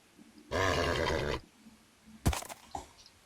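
A horse in a survival video game lets out a loud, close whinny lasting about a second, then a sharp snort and a few short huffing sounds follow.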